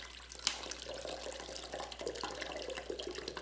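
Coconut water pours and splashes continuously into a cup, a close, moderately quiet gurgling stream with no talking.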